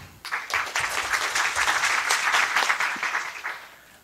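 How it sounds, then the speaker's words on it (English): A conference audience at PyCon Taiwan applauds to welcome a speaker, with steady, fairly loud clapping from many hands that builds quickly, holds for a few seconds, then tapers off. "Let's give a big applause to welcome Kir Chou."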